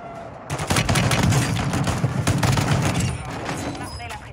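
A rapid burst of gunfire from a shotgun in Warzone, loud, close and dense for a few seconds before tapering off.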